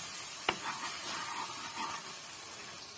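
Steady, close sizzling of onions and turmeric frying in oil in a hot pan, with a single sharp tap early on and no talking.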